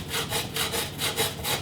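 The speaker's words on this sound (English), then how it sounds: "So we're gonna sharpen this knife here." Kitchen knife being sharpened, quick rhythmic back-and-forth scraping strokes of the blade, about eight strokes in a steady even pattern, close and clear with no talking.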